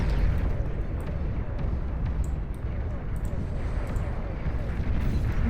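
Massive chain-reaction explosions in the strategy game Beyond All Reason form a dense, continuous rumbling roar of overlapping blasts at steady high loudness, with a voice talking over it.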